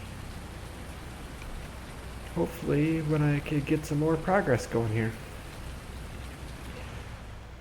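Steady rain hisses continuously in Farming Simulator 19 during cotton farming, a soft even wash of falling rain throughout, with someone talking over it midway.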